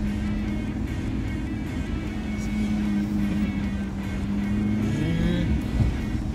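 A Maserati MC Stradale sports car with a Ferrari engine hums steadily at a low, even idle, close and constant throughout with no sharp revving.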